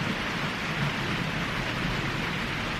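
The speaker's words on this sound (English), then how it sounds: "Don't you just love a summer rain?" Summer rain falls steadily outdoors near a tree with bird feeders, a continuous even hiss of drops with no other sounds breaking through.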